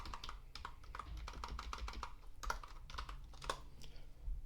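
Quick clicking keystrokes on a computer keyboard as a Linux terminal command is typed, close and fairly quiet, in uneven bursts with a few heavier taps.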